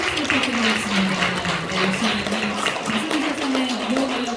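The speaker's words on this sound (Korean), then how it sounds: "끝박수 부탁드리겠습니다" Closing applause at a policy debate hosted by a digital assets industry association, a dense steady wash of clapping from a seated audience over several seconds, with a voice speaking over it.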